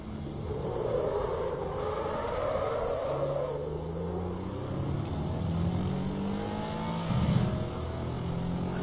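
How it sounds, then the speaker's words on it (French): A race car in the Assetto Corsa racing game circulates the Algarve International Circuit, its engine droning and shifting pitch steadily, with the little hiss of a turbo blow-off near the end, and no talk. "On entend bien la petite soufflette du turbo."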